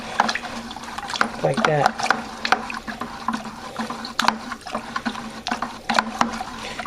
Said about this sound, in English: I'm going to start stirring and gradually put this in